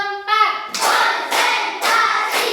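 A group in a school workshop session claps together in counted bursts, with several loud, separate rounds of clapping after a voice at the start.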